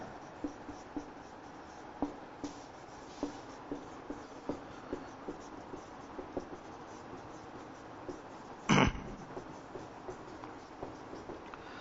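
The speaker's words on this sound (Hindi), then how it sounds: "लाइन तो मैं लिख दूंगा यहां" Chalk writing on a classroom board during a science lesson, with a steady series of soft taps and scratches, one louder scrape partway through, and no voices.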